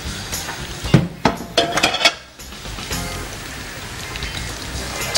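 Vegetable manchurian balls fry in oil with a steady, close sizzling hiss. Early on, a few metallic clinks of a utensil against the pan sound out.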